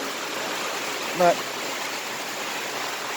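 Steady rain falls in Puerto Rico, a dense, even hiss that holds for the whole stretch, with a single short spoken word partway through.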